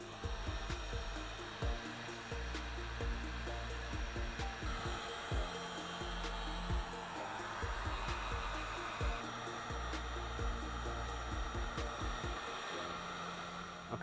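A heat gun blows a steady whooshing drone while heat-shrink connectors are shrunk onto a 2018-2022 Mustang radiator hose for a Roush cooling kit, with intermittent rubbing and handling noises close by.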